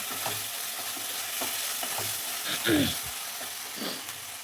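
A soybean mixture with sour yogurt is stirred in a pan: soft rhythmic scraping strokes over a steady sizzle, close and even, with a brief louder scrape partway through.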